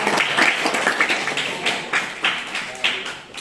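A short round of hand clapping from a small group, uneven and moderately close, with voices mixed in.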